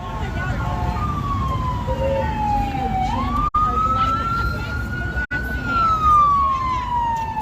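An ambulance siren wails nearby in a slow rising and falling sweep, loud and continuous, with people's voices faintly underneath.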